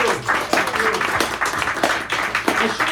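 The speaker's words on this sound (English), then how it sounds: "Give yourselves a round of applause." Applause from an audience filling the room, dense overlapping claps with a few sharper individual hits standing out, steady and close, with some vocal noise mixed under the clapping.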